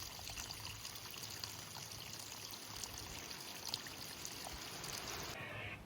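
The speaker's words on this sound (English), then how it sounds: "Let's turn off this hose" Water runs steadily from a garden hose in a tropical garden, making a soft, continuous splashing trickle that stays even from start to finish, with no voices over it.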